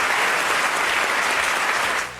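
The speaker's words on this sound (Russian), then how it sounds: "На первом показе в Sundance публика встречала фильм овациями" An audience at a Sundance film premiere applauds, dense steady clapping at full volume for about two seconds before tapering slightly at the end.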